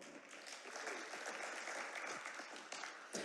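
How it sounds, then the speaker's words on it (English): At a gala evening, a large audience applauds together, a dense, even wash of clapping heard from the room at moderate distance, fading slightly near the end. "So give a round of applause to yourselves."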